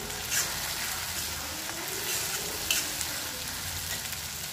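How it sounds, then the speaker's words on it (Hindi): Tomatoes and green chilies frying with golden-browned onions for matar paneer, giving a soft, continuous sizzle with light stirring scrapes, close but fairly quiet and without talk. "अब इसमें डाल देंगे हम टमाटर और हरी मिर्च को इसको अच्छे से मिक्स कर देंगे"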